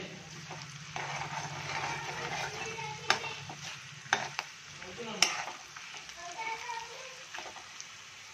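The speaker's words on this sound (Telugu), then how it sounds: "ఇప్పుడు కొద్దిగా పసుపు వేసుకొని కాస్త వేయించాలి." Turmeric sizzling and being stirred in a pan while cooking pulihora, a steady soft frying hiss with a few sharp clicks of a utensil against the pan, a voice speaking over it.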